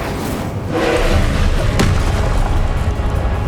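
An Incendio fire spell cast during combat in Hogwarts Legacy, heard as a deep, rumbling whoosh that swells and holds loud and steady across the moment.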